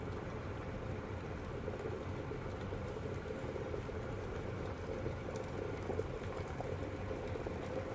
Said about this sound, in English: There we go. Rolling boil.